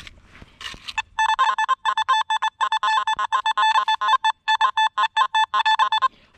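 Nokta Makro Simplex metal detector sounding over a bottle cap: a rapid series of short, loud electronic tone pulses in irregular bursts, preceded by faint rustling of the search coil over ground.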